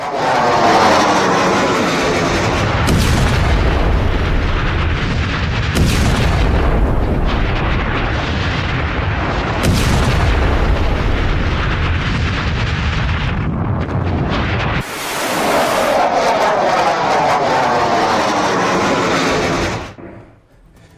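War footage of Israeli strikes on Hezbollah, with heavy booming artillery fire and explosions rolling continuously in loud, overlapping bursts, broken by several sharp blasts, then cutting out near the end.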